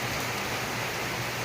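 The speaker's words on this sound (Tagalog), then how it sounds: "Umulan, lumalakas, humihina mga kaibigan ang ulan." Rain falls outside a house in Cebu, heard from indoors as a steady, even hiss of drops. It stays at a moderate level with no voices.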